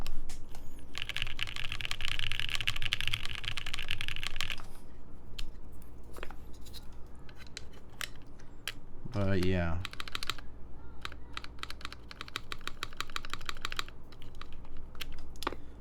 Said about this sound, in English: Can we get a 1U spacebar typing test?